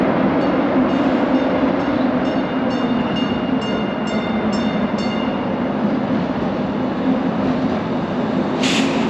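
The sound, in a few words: streetcar running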